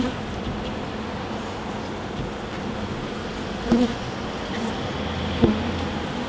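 Honey bees buzz steadily inside a hive during a pre-winter check, a dense continuous drone with a couple of slightly louder swells from individual bees passing close.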